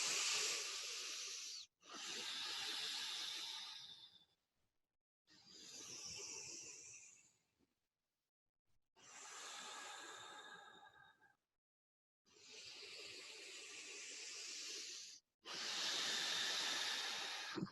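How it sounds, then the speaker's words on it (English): Slow belly breathing during a yoga session on the diaphragm, six long airy breaths close up, each a few seconds of soft hiss separated by brief silent pauses, with no talking. "So just breathing into the belly."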